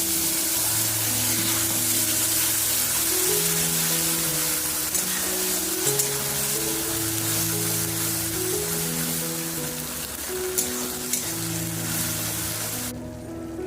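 Onions frying in oil in a pan give a steady, soft sizzle that runs throughout, sitting under a layer of melodic background music.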